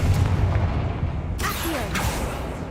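Confringo fire spell cast in Hogwarts Legacy, a loud booming blast with rumbling low-end, followed by crackling, whooshing bursts that briefly sweep upward, no talk.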